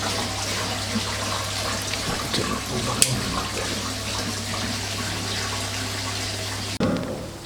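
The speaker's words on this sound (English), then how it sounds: "So that noise is actually draining the water out of the system." Continuous rushing, gurgling water draining out of a pond filter system, with a steady low hum underneath, close and loud, ending with a sudden shift in the flow near the end.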